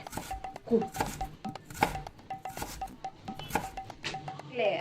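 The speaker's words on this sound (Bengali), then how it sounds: "এইবারে আমি কলাটাকে কেটে কুচি কুচি করে" Knife chops a banana into small pieces in a home kitchen, a string of sharp, close taps against a board, mixed with brief clinks and voices talking.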